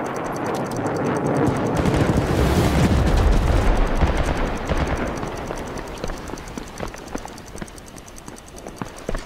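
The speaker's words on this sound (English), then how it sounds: "airstrike" An airstrike in the video game World War 3 lands with a heavy, booming blast and deep rumble that swells, then slowly fades into scattered crackling gunfire pops, close and loud.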